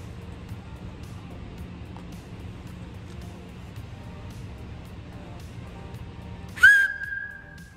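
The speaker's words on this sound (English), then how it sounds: "see if we can get it to whistle" A homemade wooden referee whistle gives one loud, sharp blast near the end that settles into a sustained steady tone, following a quiet stretch of low background noise.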